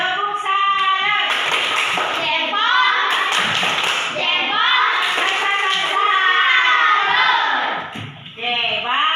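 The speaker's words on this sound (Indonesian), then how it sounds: "Kita akan bertepuk salut." A school class performs a rhythmic 'tepuk salut' clapping routine, sharp bursts of hand claps in patterned sequence mixed with children's voices chanting and shouting along.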